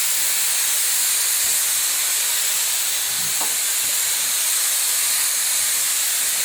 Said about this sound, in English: So we're now producing a haze which dries in about 3 to 4 seconds.